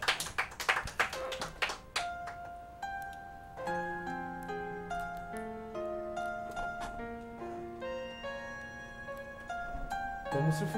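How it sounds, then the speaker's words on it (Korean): Audience applause at a singing performance in a Cheongju restaurant, a brief burst of close clapping that fades after about two seconds as sustained piano-like music tones take over. "자, 박수 한번 주세요. 박수."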